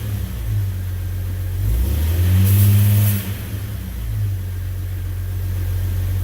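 A 2004 Jeep Grand Cherokee 4.0 litre engine idling close by with a steady low rumble, briefly rising in a short rev around the middle before settling back to idle.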